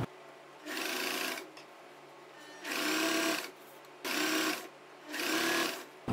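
Sewing machine stitching churidar fabric, running in four distinct bursts of a couple of seconds each separated by short pauses, close and fairly loud with a steady whirring stitch rhythm.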